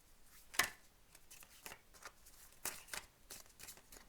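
Crisp riffling bursts of a tarot deck being shuffled, several quick ruffles and snaps spread across a few seconds, close and fairly quiet.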